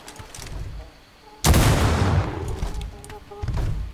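Gunfire in the video game Atlas, a single sharp loud gunshot burst with a ringing tail, preceded by quieter game sounds and followed by more soft impacts.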